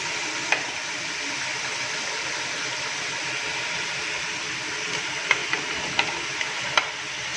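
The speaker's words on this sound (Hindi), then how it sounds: "अब हम इसमें डालेंगे टमाटर।" Chopped tomatoes frying in a chicken biryani pot, giving a steady close sizzle and hiss with a few soft clicks of stirring near the end, and no voice.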